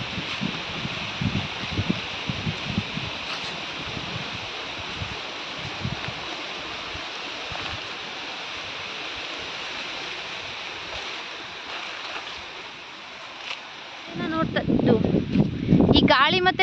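A strong wind blows before monsoon rain over a village garden, a steady loud rushing roar with gusts, and a voice talks over it near the end.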